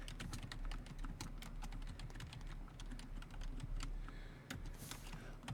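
Password being typed on a computer keyboard, steady close key clicks in a quick uneven rhythm over a low hum, with no talking.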